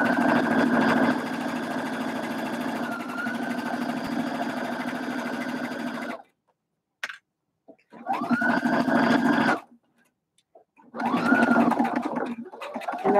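A sewing machine stitches around a fabric cinch bag, humming loud and close in long steady runs. It stops abruptly twice, leaving near-silent gaps broken by brief clicks, then resumes.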